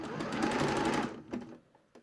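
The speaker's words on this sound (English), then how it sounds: "going to stitch close to the edge but not on the edge of the jersey, and we're going to go all the way around" A sewing machine stitches around the edge of a jersey top in a steady, fast, loud whir for about a second, then stops and gives a few short bursts of sound.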